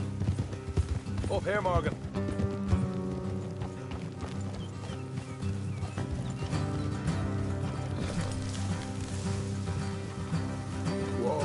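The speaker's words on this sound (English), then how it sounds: "Let's leave the horses here and go the rest on foot." Horse hooves clip-clopping at a steady rhythm while riding along a road in the Red Dead Redemption video game, with a brief whinny, game music and someone talking over the hoofbeats.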